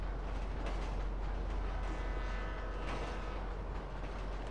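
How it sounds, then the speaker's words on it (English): Trains pass one after another in GTA V, a continuous heavy low rumble of rolling wagons, steady and fairly close, with no voices. "There's two trains in a row."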